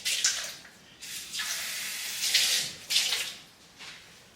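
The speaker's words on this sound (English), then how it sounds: "I just need to give that a rinse." Running tap water used to rinse an espresso cup at a home coffee setup, splashing in uneven bursts that swell and fade over a few seconds, fairly close and without talk.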